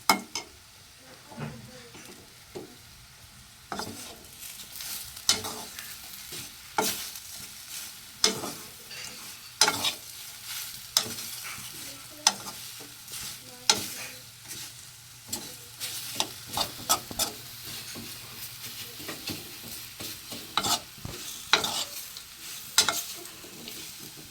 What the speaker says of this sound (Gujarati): હવે આ બધાને મિક્સ કરી નાખશું